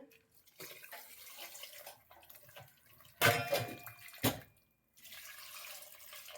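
Quiet kitchen sounds, then a short burst of thin second-extract coconut milk pouring into a pot of mango curry, followed by a brief clatter and a softer splash.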